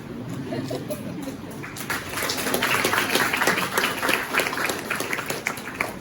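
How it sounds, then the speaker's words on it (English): An audience at a national moot court competition claps for a judge, the applause swelling after a quieter start into a dense round of many hands, with some voices and crowd noise mixed in. "So I deserve a clap for him"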